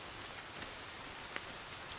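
Steady rain falling in the Sons of the Forest survival game, a soft, even hiss with a few faint drop taps, continuous and moderately quiet with no voices.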